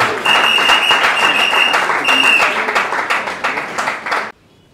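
An audience claps at a certificate-awarding ceremony for trainees: loud, close, thick applause that rises quickly, holds for about four seconds, then cuts off abruptly into near silence.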